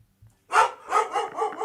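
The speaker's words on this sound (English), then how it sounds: "Hey, pipe down, dog." A dog barks in a quick run of four or five sharp, close, loud woofs after a brief quiet start, alone with no talk.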